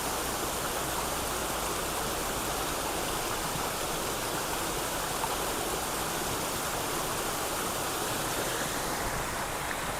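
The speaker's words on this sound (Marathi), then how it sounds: "हे वॉटरफॉल छोटा पण मस्त आहे" A small waterfall and flowing stream near a roadside temple site in Narayanpur, Pune, give a steady, full rush of splashing water that stays close and continuous throughout, with no voices.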